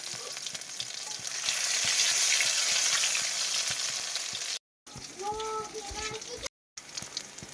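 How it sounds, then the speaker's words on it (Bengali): Onions frying in a wok give a steady crackling sizzle that swells and eases, with scraping stirs and faint clinks of a spatula over the hiss, broken by two brief silences. "কড়াইতে পেঁয়াজ দিয়ে দিলাম। পেঁয়াজগুলো একটু নেড়ে দিই।"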